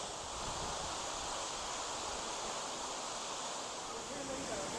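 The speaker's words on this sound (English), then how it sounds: "This is a waterfall that's called Horsetail Falls" Horsetail Falls in Oregon's Columbia River Gorge pours steadily, a dense unbroken roar of falling water filling the whole scene at close range with no pauses.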